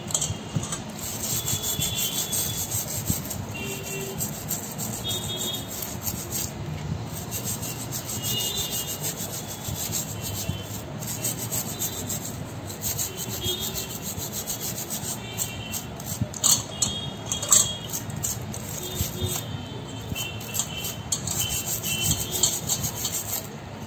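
A brush scrubbing dirt from the shells of raw crabs being cleaned for a Malvani-style crab curry, a steady close rasping rub that runs continuously for about twenty-four seconds with no speech.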